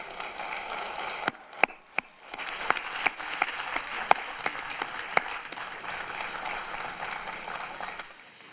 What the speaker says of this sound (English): Let's give a warm round of applause as we commend these graduates on their many,